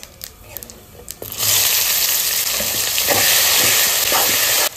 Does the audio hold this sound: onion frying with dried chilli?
yes